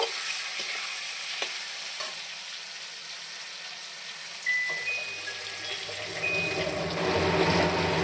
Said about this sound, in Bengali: পেঁয়াজ কুচিও ভালো করে ভেজে নেব